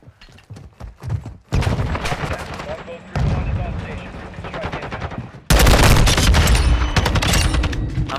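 Gunfire in a Call of Duty: Modern Warfare II multiplayer hardpoint match, loud sustained automatic bursts and rapid shots building in intensity, with speech mixed in underneath.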